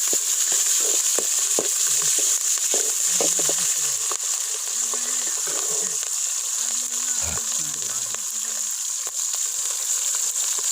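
Green chillies frying in hot oil with cumin and curry leaves for goat boti fry, giving a steady, close sizzle throughout with faint bits of low talk and stirring underneath.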